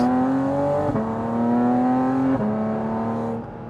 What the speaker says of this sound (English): That was 2 downshifts.